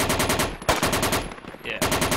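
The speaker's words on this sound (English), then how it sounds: "Let's just shoot out all the windows and shit right now so that they can't see our buddies moving in." Rapid automatic rifle fire in the Project Reality military game, shooting out windows: loud, close bursts of evenly spaced shots with a brief pause mid-way before firing resumes, no talk over it.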